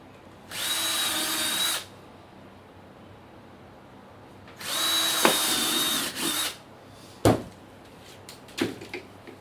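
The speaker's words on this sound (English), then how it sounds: "Then we're going to go ahead and drill our holes where we've marked for the transformer." A power drill bores mounting holes for a transformer of a gas saving device, two bursts of whining drilling about a second long each, followed by several sharp knocks and clatters as the work is handled.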